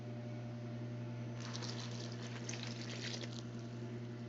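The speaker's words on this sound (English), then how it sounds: "I'm gonna pour the water on there." Water pours steadily into a pot for a couple of seconds over a constant electrical hum, faint and a little distant.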